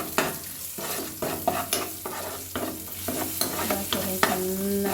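Egg noodle masala with turmeric is fried and stirred in a pan, with a soft sizzle beneath rhythmic spatula scrapes and taps, close and moderately loud, about one stroke each half second.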